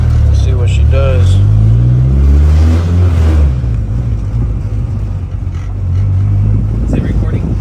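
A turbocharged Honda F20B engine revs hard and loud against the rev limiter, with a rising roar early on that gives way to a choppy, stuttering rumble as the limiter cuts in. Voices sound over it.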